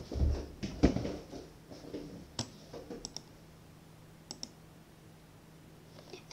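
A computer mouse and keys click sparsely at a desk while VirtualBox is set up, a handful of sharp, close, quiet clicks spaced out over near silence.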